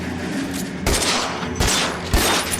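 Loud gunfire in the detective game L.A. Noire: three sharp, close shots spaced roughly a second apart, each with a brief ringing tail, and no talking.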